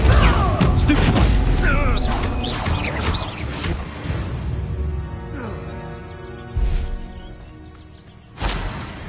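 Fire-spell explosions in the Hogwarts Legacy video game: a dense burst of booming, crackling blasts up front that fades into a rumble, followed by two sharp detonations later, with a voice speaking over the first burst.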